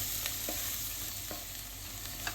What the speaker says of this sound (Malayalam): മുളക് പൊടി ഒന്ന് അതിൻ്റെ പച്ച ചുവയൊന്ന് മാറണവരെ ഒന്ന് ഇളക്കുക.